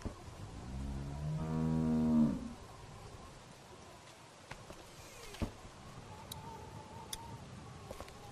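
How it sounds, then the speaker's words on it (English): A skinny cow mooing in the video game The Walking Dead: one long, low, moderately loud moo lasting about two seconds, followed by quiet ambience with faint ticks and soft footsteps. "Do you want to pet the cow with me?"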